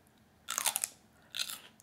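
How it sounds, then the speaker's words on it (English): Someone bites and chews a raw celery stick up close. Two loud bursts of wet, fibrous crunching are separated by a short pause, with no voices. "So this is a stick of celery"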